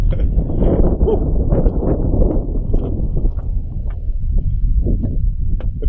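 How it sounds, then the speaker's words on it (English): Wind gusts steadily across a high desert mountain trail in Big Bend National Park, a loud, continuous rushing buffet close to the microphone for the whole stretch, with no talking. "That wind is picking up."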